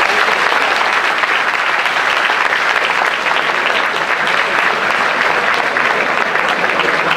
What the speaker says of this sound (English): I think definitely they need a round of applause